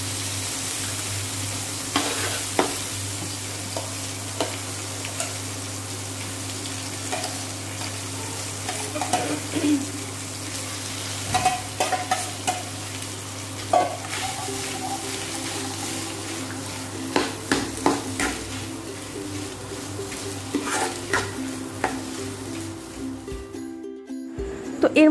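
Eggplant mustard curry with chili being stir-fried in a pan: steady close sizzling and frying with repeated scraping stirs and spatula clicks, running continuously without speech.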